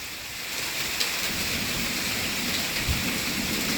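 Steady, dense rain hisses through a thunderstorm while a couple of brief thunder thumps break through, close and unbroken, with no voices.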